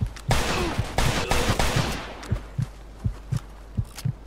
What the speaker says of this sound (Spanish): Primero, recarga. Segundo, dispara.